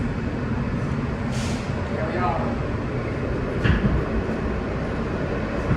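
A New York subway R train rumbles along the express track, a loud continuous roar with rattling and brief screeching bursts, while a person speaks briefly over the noise.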